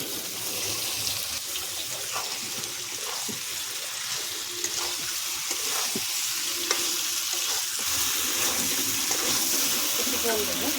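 Small new winter potatoes frying in hot oil with spices for a potato dum curry, a steady close sizzle with occasional stirring clinks and scrapes running throughout.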